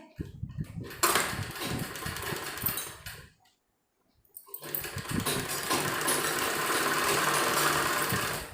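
An electric sewing machine stitching an umbrella-style sleeve whirs in a steady close run, stops briefly to near silence, then resumes with a long continuous stitching run.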